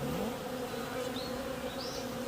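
Honeybees buzz steadily around a beehive during a move from a styrofoam hive to a wooden one, a continuous close drone with a few individual bees flitting past nearby.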